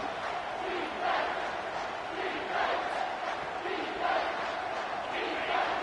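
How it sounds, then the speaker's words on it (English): A football stadium crowd roars to urge on the defense before a red-zone stop, a sustained distant wall of cheering and chanting that swells in rhythmic waves. "This crowd is trying to inspire this defense to make a big red zone stop"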